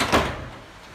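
A hand-carved wooden door shuts with a single soft thud and brief rumble, close and fading quickly into room tone.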